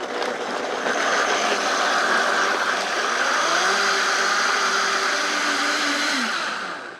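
A blender purees chiles with vinegar and piloncillo for a Sonoran backyard carne asada, giving a loud, steady close-up whir that runs the whole time, its pitch shifting slightly as the mixture loosens near the end.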